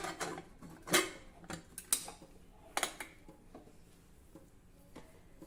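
A pressure cooker lid is shut on a kitchen stovetop with sweet potatoes inside: a few sparse metallic clinks and clatters, close by and fairly quiet, with no talking.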